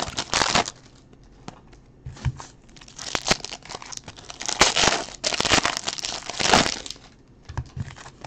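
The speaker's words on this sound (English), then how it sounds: "if you hear this tremendous amount of rustling and whatnot, that's probably him trying to tunnel his way through the pile of wrappers and boxes" Crinkling, tearing rustle of a pile of wrappers and boxes as an animal tunnels through it, coming in irregular loud bursts and crunches with quieter gaps, no talking.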